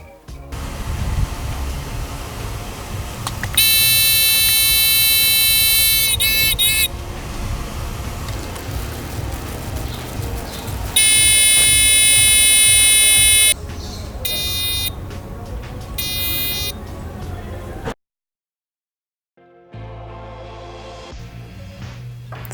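A homemade rain sensor alarm sounds during a test, its shrill electronic buzzer blaring in several loud bursts and stopping between them, with handling noise and a short silent gap near the end.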